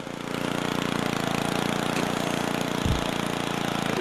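A lawnmower engine in the Happy Wheels video game drones at a steady idle with a throaty chug, holding constant and fairly loud, with one brief thump partway through.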